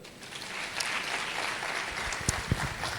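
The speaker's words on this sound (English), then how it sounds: "Let's clap for them" An audience claps at a university graduation congregation ceremony, a steady, moderately distant wash of applause with a few sharper claps standing out near the end.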